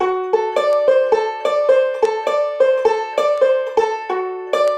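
Banjo picking an up-the-neck Scruggs-style lick that lands on a 7th chord, crisp bright plucked notes in a quick steady rolling rhythm, close and clear with no voices.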